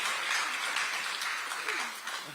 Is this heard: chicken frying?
no